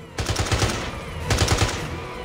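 Gunfire in James Bond 007: Blood Stone: two close, loud bursts of rapid automatic shots separated by a short pause, each a quick run of sharp cracks over a low background.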